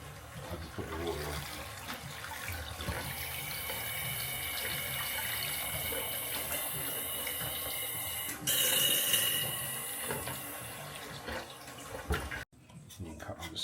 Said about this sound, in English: I just put the water on.